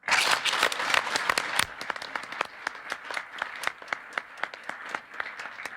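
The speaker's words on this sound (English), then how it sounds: "We'll give them a round of applause for all of the activity so far today." A round of applause from the audience at a junior chef competition event, starting as dense clapping and thinning to scattered individual claps that fade out over a few seconds.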